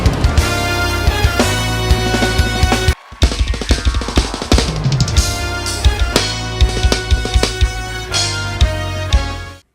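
Full drum kit playing the paradiddle-diddle intro of a gospel song, dense rapid sticking across drums and cymbals, loud and close, with a brief stop near three seconds before the groove resumes.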